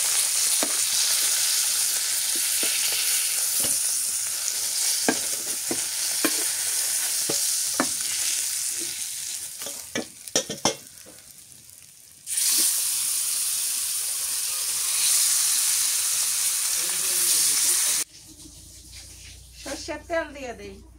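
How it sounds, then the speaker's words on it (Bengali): Fish frying in mustard oil gives a loud, steady sizzle with stirring clatter for most of the span, briefly quieting mid-way, then dropping to softer crackles near the end, with a voice present. "সর্ষের তেল দিয়ে দিই মাছ ভাজা"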